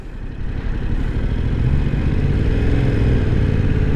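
A Yamaha R7 motorcycle pulls away slowly and easily from a stop, its engine rumbling loud and close, with a steady low growl that builds gently as it gets under way.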